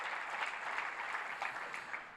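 A church congregation claps in sustained applause, dense and even at modest volume, with slight surges in intensity.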